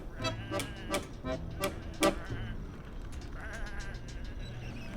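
Sheep in the video game Whateverland bleat several times in a row, short wavering calls rising over a steady game ambience, the flock close by and fairly loud.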